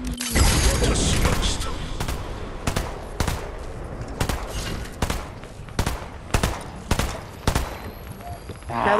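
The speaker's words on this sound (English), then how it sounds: "Nope, they're firing at me." Rapid bursts of gunfire in the Fortnite video game, about nine sharp shots spaced roughly every half second to a second, loud and close, with a dense noisy wash at the start and a voice talking over it.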